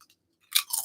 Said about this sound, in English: I mean, they have a nice satisfying crunch to them.